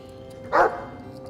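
A war dog in Dragon Age 2 gives a single short, sharp bark that stands out loud and close over a low steady game background.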